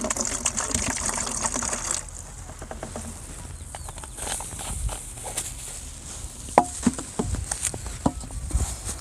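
Hydrogen peroxide, about half a cup, is poured for an elephant toothpaste experiment, a soft, continuous liquid gush and patter with scattered light clinks and taps near the end.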